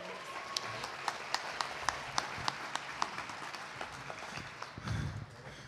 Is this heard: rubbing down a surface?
no